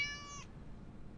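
A cat gives a single short, bright meow up close, ending abruptly and leaving faint low background hum.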